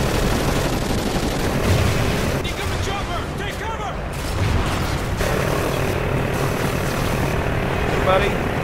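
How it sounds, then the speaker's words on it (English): A helicopter in the Call of Duty: Ghosts video game drones steadily amid gunfire and battle noise, with game voices talking over it throughout. "Incoming chopper!"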